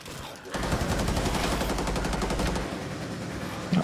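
Rainbow Six Siege gunfire, with a shotgun in play, sounds as a dense, loud burst of rapid shots lasting a couple of seconds before cutting off.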